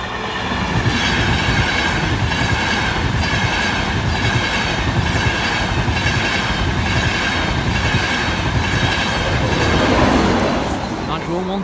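Train 82204 rumbles past Barnby level crossing, a loud, steady close pass of rolling wheels with rhythmic clickety-clack and faint squealing throughout, and a voice speaking over it.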